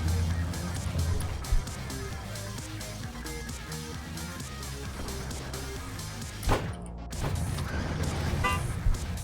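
Truck horns honk in the game Clustertruck, several brief toots scattered over loud engine rumble and game music, with a sharper blast near the end.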